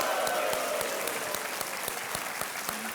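Studio audience on the KBC game show applauds, a steady wash of many hands clapping with a few sharper individual claps standing out, sustained and even throughout.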